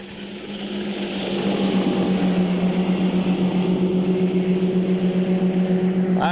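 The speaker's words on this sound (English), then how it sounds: "I recognize the sound of that motor" A boat motor runs steadily out on the water, a droning hum with a strong tonal whine that grows louder as it approaches and then holds constant.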